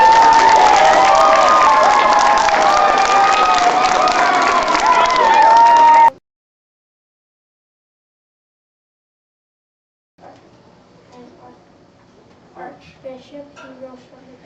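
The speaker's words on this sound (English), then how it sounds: "Let's give her a round of applause." An audience at a grade 6 graduation at St. Mark's cheers and applauds loudly with excited shouting for about six seconds, then falls silent, before quieter crowd noise and scattered voices return.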